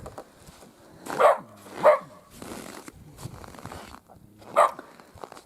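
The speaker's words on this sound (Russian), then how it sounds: "Чья-то собака здесь бегает." A dog barks three times, sharp and fairly close, with quiet gaps and low background noise between barks.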